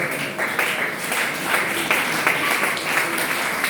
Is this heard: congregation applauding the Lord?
yes